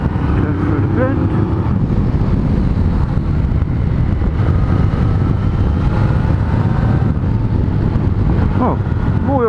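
A Yamaha Tracer 900 GT motorcycle rides along twisty roads, its engine droning continuously under heavy wind buffeting, with a brief pitch sweep suggesting a gear change and a rider speaking at times.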